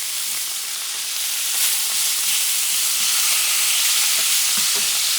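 Beef ribs searing in a hot pan for a Puerto Rican-style rice dish, giving off a loud, steady sizzle that holds without pause and is heard alone, with no voices.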